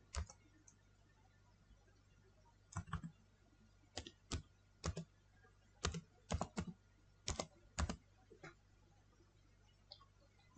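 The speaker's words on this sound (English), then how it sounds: "So type your username." Sparse, sharp keystrokes on a keyboard as a username is typed, coming in small bursts separated by pauses over a quiet background hum, with no talking.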